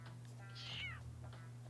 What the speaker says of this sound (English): Oh, there's a stray cat.